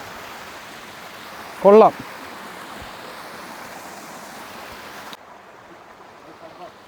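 A forest waterfall rushes in a steady broadband roar of falling water, and a single short spoken word cuts in briefly before the water noise abruptly drops lower near the end.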